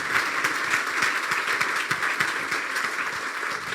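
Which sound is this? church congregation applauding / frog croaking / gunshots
church congregation applauding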